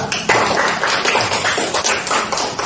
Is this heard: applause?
yes